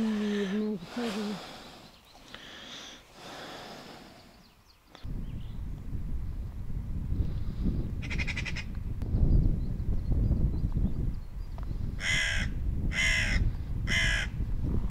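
Magpies and crows call repeatedly outdoors by a river while chasing a mink, harsh cawing bursts in short rhythmic clusters, fairly close, over steady wind and water noise with a few breaths and rustles.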